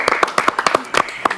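An audience clapping in a short burst, a quick run of sharp, close hand claps with uneven rhythm lasting just over a second.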